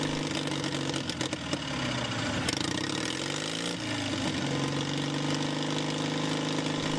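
A Caterpillar D4 crawler tractor from the 1950s, a four-cylinder diesel, runs steadily up close with a dense, continuous mechanical drone and a low rumbling idle that shifts pitch briefly partway through.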